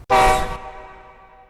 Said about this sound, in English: an air horn,